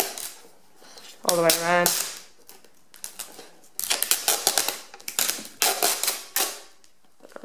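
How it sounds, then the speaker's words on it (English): Sellotape peeled from a GoPro Hero 3 White Edition cardboard box gives a rapid, crackly ripping that comes in several close bursts, near and fairly loud, after a brief spoken phrase. "So next we have another set of sellotape across. I'll just peel that off."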